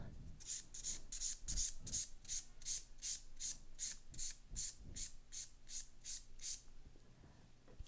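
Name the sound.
filing and buffing an acrylic gel nail with a nail file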